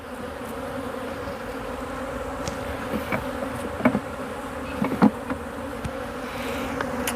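Honey bees buzz steadily in a dense drone close by at a hive, with individual insects flitting past now and then; no one speaks.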